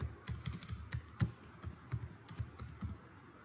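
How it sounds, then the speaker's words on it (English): Computer keyboard typing in irregular bursts of quick keystrokes, close and moderately quiet, with no talking. "I'm just randomly typing."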